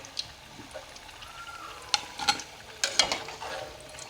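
Fried potato snacks lifted out of hot oil in a home kitchen for an iftar recipe, with soft crackling sizzle and a few sharp scraping clicks of a utensil against the pan, close and fairly quiet.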